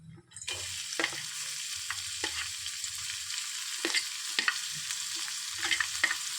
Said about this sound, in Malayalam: എണ്ണ ചൂടായിട്ടുണ്ട് അപ്പോൾ നമുക്ക് ആദ്യം സവോള ഇട്ട് കൊടുക്കാം